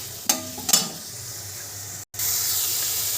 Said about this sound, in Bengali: এবার এটা দিয়ে সম্পূর্ণ নাড়িয়ে চাড়িয়ে একটা সুন্দর রং আসবে